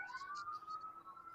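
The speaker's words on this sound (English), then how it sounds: "now we got fire sirens" A faint wailing fire engine siren holding a steady tone in the distance, with soft chirpy bursts above it.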